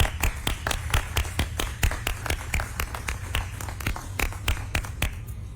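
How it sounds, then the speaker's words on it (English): Scattered hand claps from a small group at a transportation center event for StarTran staff, sharp individual claps in an uneven rhythm over a low steady hum, close and moderately loud. "Please join me in a round of applause for them"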